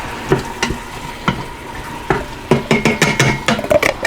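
Chicken sautés in a pressure cooker on saute mode, a crackling sizzle with irregular clanks and scrapes of a utensil against the pot, growing busier toward the end.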